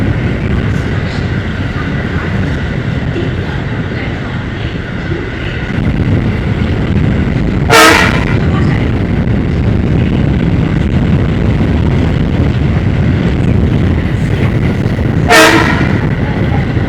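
A train runs past Kanchrapara station with a continuous heavy rumble and rattle, sounding two sharp horn blasts spaced several seconds apart over the steady roar.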